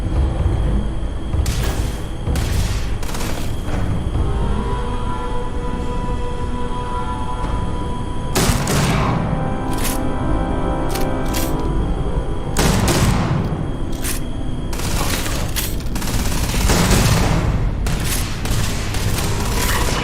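Dense video-game gunfire from Starfield, with bursts of rapid automatic shots and heavy booms repeating across the whole stretch, loud and close, with brief lulls between volleys.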